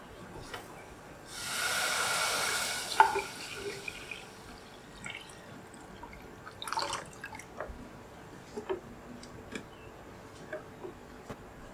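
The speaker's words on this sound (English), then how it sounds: "I will add water, about a liter." About a litre of water is poured into a cooking pot while making a vegan fish-sauce substitute, a short rushing splash lasting about two seconds, followed by scattered kitchen clinks and drips.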